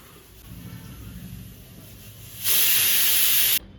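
A pressure cooker lets out a sudden, loud burst of hissing steam lasting about a second, over a quiet kitchen background, then stops sharply.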